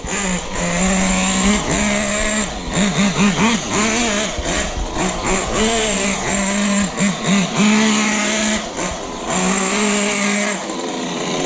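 A 1/8-scale nitro RC buggy engine, run rich during break-in, revs and accelerates in repeated buzzing surges, loud and close, its pitch rising and falling throughout.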